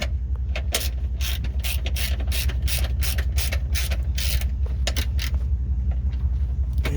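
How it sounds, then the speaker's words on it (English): A ratchet tightens bolts during an FSWERKS torque mount install, giving a fast run of close, crisp clicks over a steady low engine-bay hum, with brief pauses between strokes. "Just finishing up the tightening phase."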